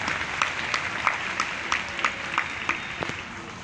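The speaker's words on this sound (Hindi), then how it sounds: "मैं चाहता हूँ जोर से तालियां दिल्ली कैंटोनमेंट बोर्ड" Applause for the Delhi Cantonment Board at a public ceremony in Delhi: a steady wash of clapping from a crowd at moderate distance, with individual sharper claps standing out, lasting under four seconds.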